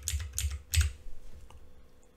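Close, crisp keystrokes on a computer keyboard, four or five quick taps as a number is typed into an Excel dialog, with no voice.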